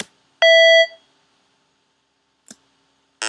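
TB303 synth voice in Sonic Pi playing a random note: a short bright tone near the start, then a faint click and a brief buzzy burst at the end, separated by silence.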